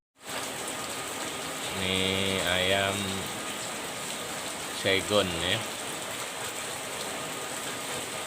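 Steady rain falls on an outdoor yard where Saigon chickens are being fed, a constant hiss running throughout beneath two short stretches of speech.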